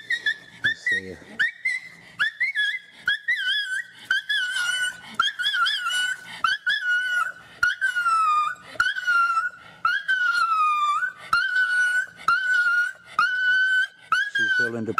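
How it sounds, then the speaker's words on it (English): Dog whining insistently in high, wavering, drawn-out whimpers that rise and fall almost like whistling, repeated in close succession, close and loud, with someone talking over it. "My dog's fixing to throw a fit. You hear her winding up."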